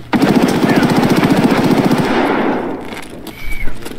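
Automatic gunfire in the video game Escape From Tarkov: a loud, rapid burst of fire lasting a couple of seconds, then fading, with a brief sharper shot near the end.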